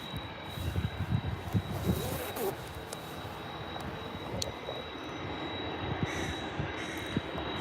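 Boeing 747 jet engines at Birmingham airport, a distant low rumbling roar with a faint steady whine, heard from outdoors over light background noise.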